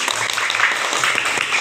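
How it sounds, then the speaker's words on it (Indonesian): Students in a classroom clap briefly for a classmate, a short, scattered burst of hand claps filling the room. "tepuk tangan untuk Sarif"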